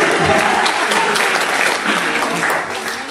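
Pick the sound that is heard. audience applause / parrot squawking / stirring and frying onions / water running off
audience applause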